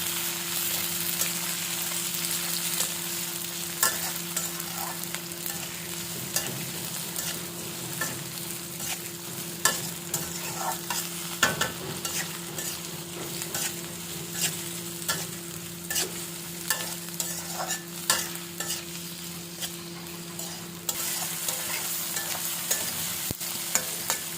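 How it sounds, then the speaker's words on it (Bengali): Onion, capsicum and tomato stir-frying in a pan: a long steady sizzle with frequent scraping and stirring clicks from a spatula, close and continuous, without talk. "পেঁয়াজটা একটু ভাজা হয়েছে, এবার দিয়ে দিব ক্যাপসিকাম আর টমেটো।"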